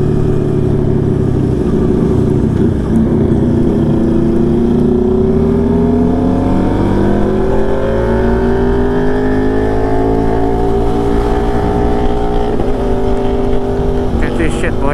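Suzuki Gixxer SF 250 motorcycle engine on an afternoon ride, a loud steady drone with rising and falling revs throughout, wind rush constant and a voice briefly audible over it.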